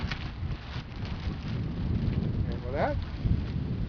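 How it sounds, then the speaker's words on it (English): Wind buffets the microphone and moves through trees outdoors, making a steady low rushing roar with faint swells, while a voice speaks briefly over it. "I'm going to leave you listening to the wind on the microphone. And maybe the wind in the trees."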